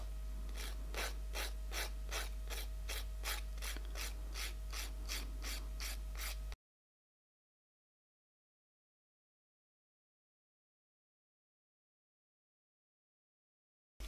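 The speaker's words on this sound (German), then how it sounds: "Stellt die Feile ein bisschen flach auf und feilt wirklich nur an der" A hand file rasps across an artificial nail tip in quick, even back-and-forth strokes for about six seconds, close and fairly faint, then silence follows.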